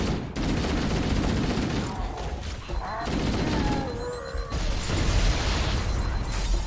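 Dense gunfire and grenade explosions in the video game Halo: Combat Evolved, a loud continuous barrage of bursts and booms with a short break near the middle, then more blasts.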